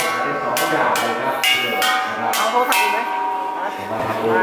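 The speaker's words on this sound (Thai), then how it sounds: "พ่อเขาตีระฆังทำไมอ่ะ" A temple bell rings out repeatedly in a steady rhythm, each bright metallic strike ringing on and overlapping the next, fairly close, with faint background murmur.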